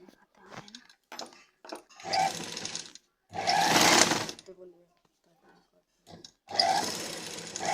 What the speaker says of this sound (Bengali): এবার আমি ভালো করে সাইড দিয়ে সেলাই দিয়ে নেব